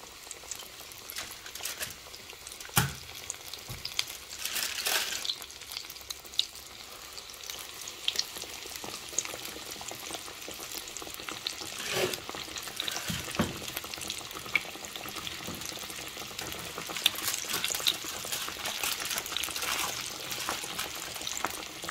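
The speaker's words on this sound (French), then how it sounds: "Là, mon huile est assez chaude. Je vais venir maintenant prendre mon poulet et le mettre à l'intérieur." Chicken pieces frying in hot oil make a steady, fairly quiet sizzle with occasional louder crackles and bursts throughout, no voices over it.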